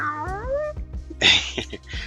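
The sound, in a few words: human imitating a cat meow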